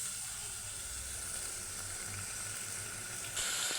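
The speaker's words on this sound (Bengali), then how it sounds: "মশলাটাকে সুন্দরভাবে কষিয়ে নিচ্ছি টক দই দেওয়ার পরে" Constant hissing sizzle of beef masala being sautéed in a pan after sour yogurt is added for a beef kebab dish, a steady close frying sound with no talk.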